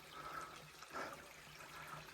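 A brook flows under trees fallen across it in a wooded clough, giving a faint, steady, close water trickle and gurgle, with no talking.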